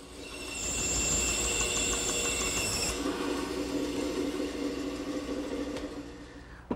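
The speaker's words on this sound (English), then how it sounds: "First thing to do is rough it out at the bandsaw." Bandsaw roughing out mahogany stock in a woodshop, a loud sustained whine with a high blade tone for about three seconds, then shifting to a lower, steady cutting drone with no talking.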